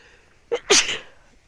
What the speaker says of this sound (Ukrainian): О, не бійтеся, то я б чихнула